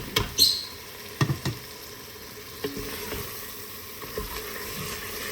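Boiled chicken liver fries in a pan with a low, steady sizzle, broken by a few sharp clacks and scrapes of stirring near the start and scattered softer knocks later, with no voices.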